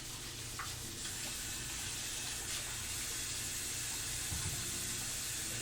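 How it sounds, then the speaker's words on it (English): Tap water runs steadily into a kitchen sink during handwashing, a continuous broadband hiss at moderate level with no talking. "Let me wash my hands real quick."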